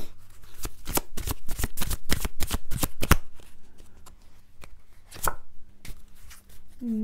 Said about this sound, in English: let's have one Chuck Spezzano Enlightenment card